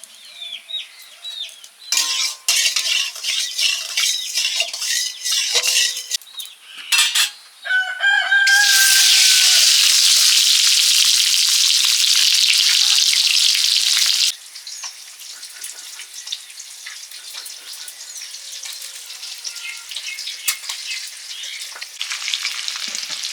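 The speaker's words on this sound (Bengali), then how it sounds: "সর্ষের তেল দিয়ে সেদ্ধ করা ডিমগুলো হালকা ভেজে নিচ্ছি নুন হলুদ মাখিয়ে" Boiled eggs coated in salt and turmeric fry in mustard oil. Scattered crackles build into a loud, continuous sizzling burst that then settles to a quieter spitting fry, with a rooster crowing faintly in the background.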